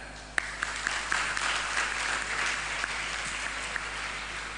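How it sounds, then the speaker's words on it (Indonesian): Applause from a crowd at an Islamic religious gathering, steady clapping with a few sharper claps standing out, fairly loud and continuous throughout. "tepuk tangan"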